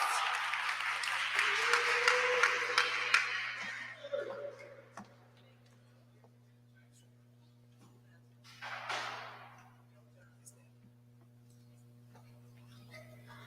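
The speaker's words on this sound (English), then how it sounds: "Everybody give TJ a round of applause" Audience applause at a student forum, a burst of clapping for a few seconds that tapers off, followed by a quieter stretch with a steady background hum and a brief later noise.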